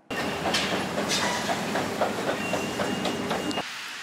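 A Moscow subway train rumbles along the rails with a steady roar and rhythmic clacks, then cuts off abruptly.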